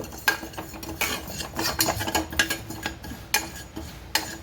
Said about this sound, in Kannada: ಜೀರಿಗೆ ಫಸ್ಟಿಗೆ ಈ ಥರ ಹುರ್ಕೊಂಡು